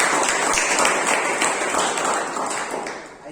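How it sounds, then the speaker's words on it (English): Applause from an audience at a Toastmasters club meeting for a speaker, a dense steady burst of many hands clapping that slowly fades. "A huge round of applause for breaking the ice"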